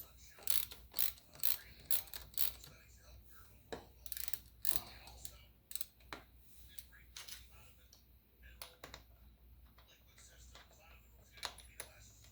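A ratchet works bolts loose to unhook the handlebar of a Kawasaki ZX10R motorcycle, giving close, quiet bursts of sharp clicking that come in uneven clusters with short pauses between them.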